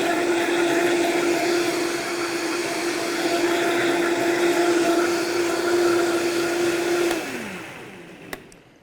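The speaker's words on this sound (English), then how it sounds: "we're going to let the blender do the work for us" A blender runs loudly at high speed with a steady whirring hum, then spins down near the end, followed by a sharp click.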